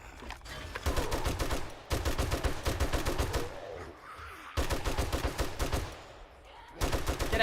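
Rapid automatic gunfire mows down zombies in the survival game 7 Days to Die, loud sustained bursts of shots separated by brief pauses, repeating across the stretch.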